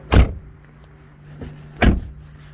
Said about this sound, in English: at last this car can now compete with the Vauxhall Zafira flabby door shut sound.